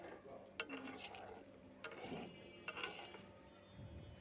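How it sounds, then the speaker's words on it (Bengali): A spoon stirs pasta boiling in a pot, with a few light clinks against the metal over a soft bubbling background and faint talk. "এবার হালকা করে একটু নেড়ে দিব"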